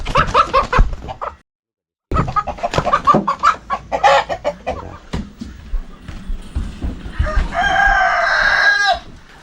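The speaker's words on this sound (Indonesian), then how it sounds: "get out, chicken." Chickens cluck busily and a rooster crows nearby, loud and repeated, while people talk and shoo the birds around them.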